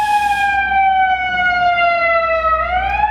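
A loud, steady siren wails continuously, its tone slowly falling then rising again near the end, over low traffic rumble.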